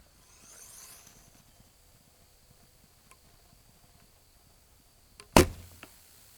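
A Black Widow PCHX 60 bow shooting an arrow outdoors at a hog target about 22 yards away, with a single sharp snap of release and impact against faint insect and ambient noise.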